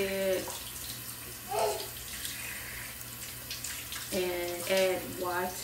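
Water runs steadily from a tap into a sink during a skin care routine, a continuous hiss filling the clip beneath occasional short speech-like sounds.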